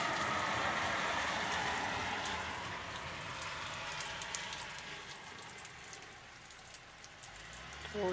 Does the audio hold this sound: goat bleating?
no